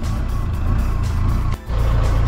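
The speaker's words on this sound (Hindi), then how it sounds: "तो अभी चलिए गाड़ी को कुछ देर गर्म होने देते हैं।" A car engine idles steadily on a snowy mountain morning in Spiti Valley, a low continuous rumble that dips briefly once before resuming, close and loud with no talk.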